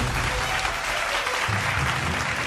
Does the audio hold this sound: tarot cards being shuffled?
no